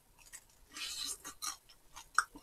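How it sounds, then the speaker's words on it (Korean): Crunchy chewing on Korean scorched rice soaked in braised spicy chicken sauce yet still crisp, a few crisp bursts of crackling close to the mic, then a sharp crunch near the end. "한참 담궈놨는데도 지금도 바삭해."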